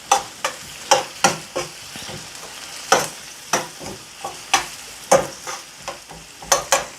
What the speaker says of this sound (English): I'm gonna get me a spoon to stir my onions